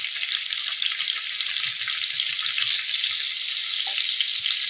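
Tomatoes and asafoetida frying in a hot pan for sambar, a steady loud sizzle with soft stirring scrapes underneath, close and continuous.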